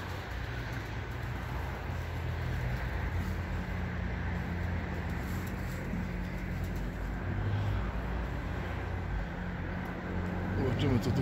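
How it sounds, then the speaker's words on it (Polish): Pigeons coo in low, repeated murmurs against a steady background rumble of distant traffic, fairly close and soft. "Gołębie."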